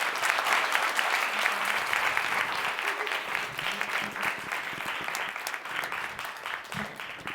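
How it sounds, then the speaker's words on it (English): An audience at a corporate panel session applauds loudly and steadily, a dense continuous wash of clapping that carries on throughout. "could we give Rudi, Matt, Tanisha, Eduardo a big round of applause?"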